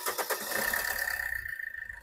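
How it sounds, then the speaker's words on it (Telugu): A 2016 Maruti Suzuki Ertiga VDi SHVS diesel engine starts with a short burst of cranking, then catches into a rough, pulsing idle with a thin whine, heard close by. "సింగిల్ సెల్ఫ్లో బండి స్టార్ట్ అవుతుంది సార్,"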